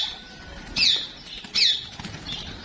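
Two quick bursts of wing flapping from pigeons taking off nearby at a village pigeon-breeding setup in Punjab, separated by a short pause over quiet background.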